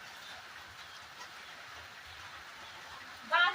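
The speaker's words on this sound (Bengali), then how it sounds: "দেখেন টিপ টিপ বৃষ্টি হচ্ছে" Steady soft hiss of light rain falling outdoors, even and continuous, with a brief louder rustle near the end.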